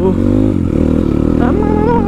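A motorcycle is ridden in Pokhara, its engine running loud and close with a steady throbbing drone and slight shifts in pitch, while voices are faintly audible.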